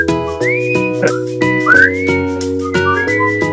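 Someone whistles the theme tune of The Andy Griffith Show, a clear, loud melody of sliding, rising notes in a relaxed rhythm with steady backing music beneath.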